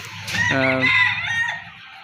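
A farm-raised rooster gives a single loud, close crow, rising and then trailing off over about a second.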